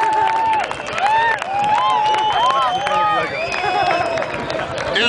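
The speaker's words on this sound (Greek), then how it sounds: "Είναι το μεγάλο χειροκράτημα" Dense crowd noise at an outdoor kart track during a motorbike drift show, a steady roar of cheering voices and clapping that stays loud throughout, with whistles and shouts rising over it.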